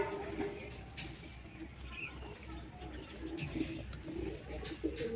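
Pigeons coo softly and intermittently near a village clay stove, the low calls scattered over a steady background hum without anyone speaking.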